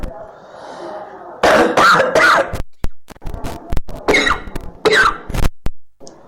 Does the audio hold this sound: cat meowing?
no